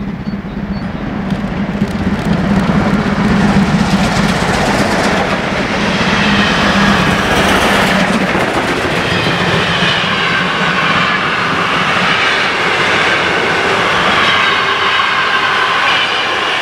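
A steam locomotive hauling an express train rolls past close by on the Tharandt incline, a loud continuous rumble of wheels and rail clatter with a low droning tone, building and then sustaining.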